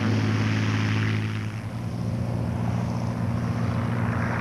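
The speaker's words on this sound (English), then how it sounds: "Engines were started, and the 1st Provisional Air Brigade took off for a mission" Engines of the 1st Provisional Air Brigade's military aircraft drone steadily as they start and take off, a continuous propeller hum with a slight dip midway, fairly distant and without voices.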